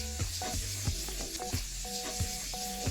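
Green chillies, potato and other vegetables fry in a pan for fish roe chorchori, giving a continuous close sizzle with stirring scrapes beneath tonal background music.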